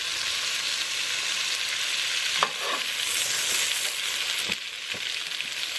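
Potatoes frying in olive oil in a pan, a loud, steady sizzle broken by a few sharp scrapes of stirring, with no talk.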